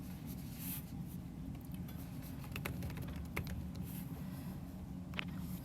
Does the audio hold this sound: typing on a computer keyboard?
yes